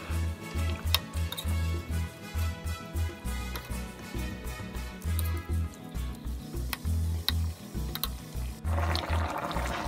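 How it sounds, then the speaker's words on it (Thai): Thai green chicken curry with bamboo shoots boils in a pot, giving a steady run of deep, close bubbling plops in an uneven rhythm. "พอใส่ลงหน่อไม้ลงไปแล้วก็รอสักพักนึงให้เดือดอีกสักพักนึง"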